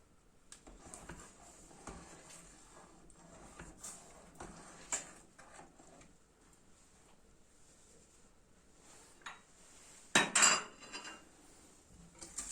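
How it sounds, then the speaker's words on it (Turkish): Béchamel sauce is stirred in a pot, giving soft, intermittent scrapes and clinks of a utensil against the metal, fairly quiet, with a louder clatter near the end. "Çok az daha karıştırıyorum."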